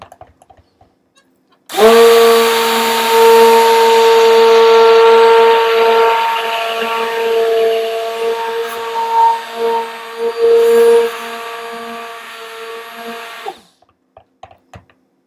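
A stick blender whirs loudly and steadily as it mixes laundry soap to trace, running for about twelve seconds with a few wavering dips in pitch before cutting off.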